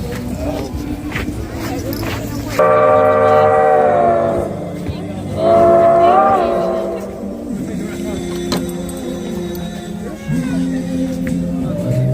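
The Huckleberry Railroad Polar Express train arrives, sounding two long, loud horn blasts over steady rumbling, with people chattering nearby.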